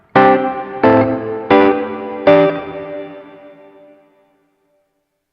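Church reverb mode on an Alabs Cetus pedal: four loud guitar chords hit in quick succession, then a broad, lingering wash decays slowly for a couple of seconds into quiet, without any speech.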